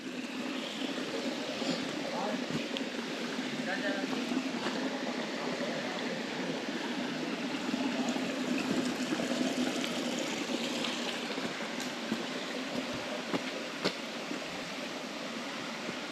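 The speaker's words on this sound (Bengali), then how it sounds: "দেখতেই পাচ্ছেন এখানে আবার জল পড়ছে" Water falling and trickling on a trek toward Magnetic Hill at Daringbadi, a continuous rushing, splashing wash that holds steady and fairly loud for the whole stretch, with no voices standing out.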